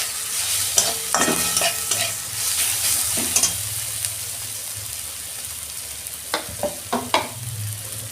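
Onions and softened tomatoes sizzle in a pan as turmeric goes in, a steady fry hiss broken by several sharp stirring scrapes and clinks of a spatula, close and without talk.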